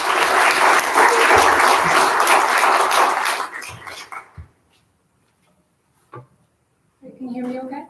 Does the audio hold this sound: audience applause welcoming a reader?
yes